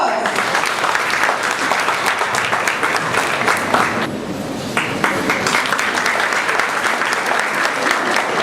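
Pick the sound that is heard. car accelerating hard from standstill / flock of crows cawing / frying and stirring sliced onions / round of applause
round of applause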